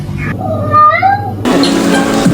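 A cat meows several times in a clear series of rising and falling calls, close and alone, with a low background hum throughout.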